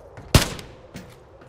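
One sharp, loud gunshot in Warzone 3 cracks out, followed by a few fainter echoing reports and distant shots.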